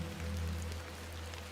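Rain falls steadily in the video game The Excavation of Hob's Barrow, a soft continuous patter over a low hum, without speech.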